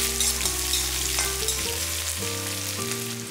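Onion and dried red chillies fry in hot oil in a pan for pumpkin poriyal, giving a loud, steady sizzle with faint stirring scrapes throughout and no talking.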